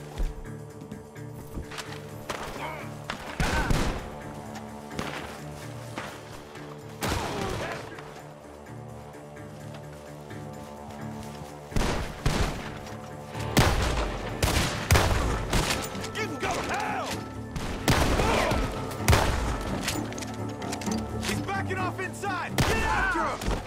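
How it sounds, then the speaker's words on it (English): Gunfire bursts out of a barn in the Western video game Red Dead Redemption 2, with loud scattered volleys and single shots crackling across the clip amid game music, with hoofbeats and voices mixed in. "Gunshots are coming from that barn."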